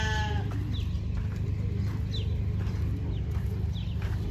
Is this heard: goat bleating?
yes